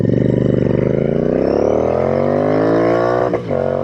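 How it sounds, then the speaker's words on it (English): A Royal Enfield Interceptor clone motorcycle engine revs up hard and loud, rising steadily in pitch until it hits the rev limiter with a brief stutter near the end. "That was the rev limiter."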